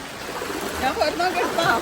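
Rising floodwater flows steadily around a house as a small boat passes, a continuous broad rush of moving water with faint voices underneath.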